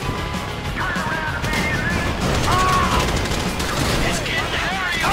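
Gunfire in the GTA 5 heist mission The Paleto Score: a dense, continuous fusillade of shots that runs the whole stretch at steady loudness, with voices shouting over it.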